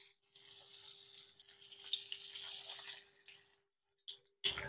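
Fish pieces go one by one into hot mustard oil on a tawa, giving a soft, steady sizzling hiss that swells, fades, then flares briefly again near the end.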